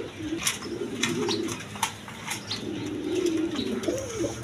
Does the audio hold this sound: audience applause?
no